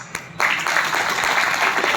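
An audience breaks into applause after a brief pause, a dense, sustained wash of clapping from many hands filling the room.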